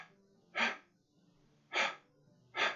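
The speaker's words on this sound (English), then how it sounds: "It sounds like breathing." Three loud, breathy rushes of breath in the Doki Doki Literature Club video game, each about half a second long and evenly spaced, with quiet pauses and a faint low hum between them.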